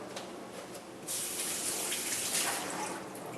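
Running tap water rinses a whetstone used to sharpen a Yanagiba single-bevel knife, a steady close splashing stream that swells louder partway through.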